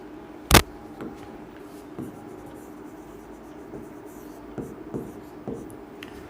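Pen writing out a determinant expansion by hand for a math lesson, a sharp knock early on, then sparse, quiet scratchy strokes and taps spaced over several seconds, close up.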